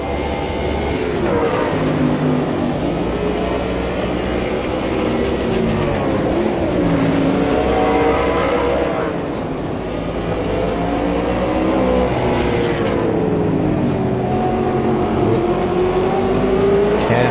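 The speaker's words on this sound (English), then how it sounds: "We catch right up to the back of him. And then they accelerate away." NASCAR race cars in the Automobilista 2 racing game roar at full throttle, engines rising and falling in pitch as they accelerate and shift, loud and continuous throughout with no talk.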